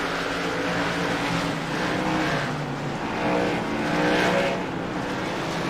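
An ARCA Menards stock car at a World Series of Stock Car Racing night event is driven hard into a corner. Its engine roars loud and continuous, swelling and easing slightly as it goes, with no voices over it.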